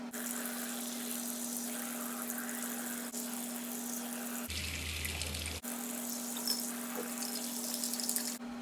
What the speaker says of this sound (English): I just take the tips off, rinse them off, and sometimes I even wash them with soap and water